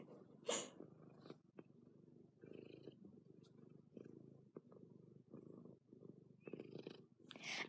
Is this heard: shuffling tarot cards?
no